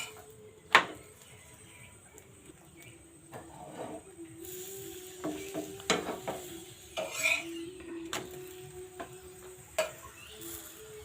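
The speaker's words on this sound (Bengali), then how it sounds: "খুন্তি দিয়ে চাপ দিয়ে দিয়ে কিন্তু পরোটাটা ভাজি নিন" Lachha paratha made from wheat flour fries in a pan while a metal spatula presses and scrapes it, giving faint sizzling under scattered clinks and scraping taps.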